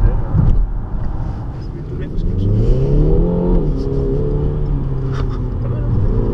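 A car engine, not diesel-sounding, revs while driving in sport mode, its pitch rising and falling in smooth sweeps under people talking in the cabin.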